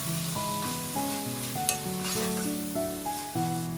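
Spice masala sautéing in a pan, a soft steady sizzle with gentle stirring close by, accompanied by background music.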